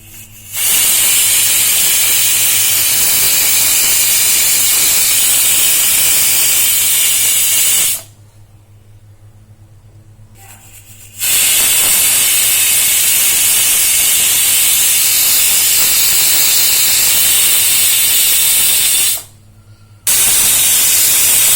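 Loud, continuous steam hiss from a pressure cooker whistle while cooking dal, cutting off twice into brief quiet before resuming at full force.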